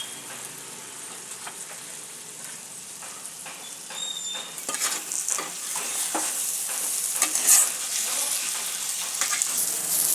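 A hot dosa griddle is wiped with oil on a cut onion. It is quiet at first, then a steady close sizzle with scraping, patter-like crackle starts about midway and continues to the end, with no talking.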